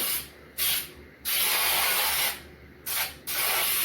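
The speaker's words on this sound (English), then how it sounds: "Give it a generous little spray with some cooking spray, that way it doesn't stick to your pan" Baker's Joy cooking spray aerosol blasted into a meatloaf pan: two paired bursts of loud hissing spray, each a short puff followed by a longer sustained hiss, close and alone.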